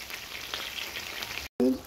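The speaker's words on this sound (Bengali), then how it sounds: "এখন আমি চিকেনটাকে ফ্রাই করে নেব।" Chicken frying in a pan, a steady close sizzle with faint crackles throughout, briefly cut by a short gap before a louder burst of sizzling.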